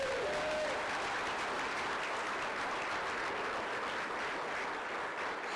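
Steady, dense applause from an audience at an immigration roundtable discussion, a continuous wash of many hands at moderate distance with no breaks and no talk over it.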